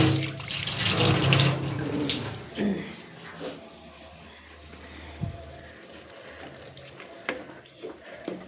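Water from a motor pump gushes and splashes loudly at first, then tapers into quieter trickles and clinks of handling.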